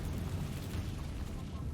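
A Confringo blast spell explodes in Hogwarts Legacy, a loud sustained rumbling burst with heavy low-end boom filling the moment, a voice present alongside it.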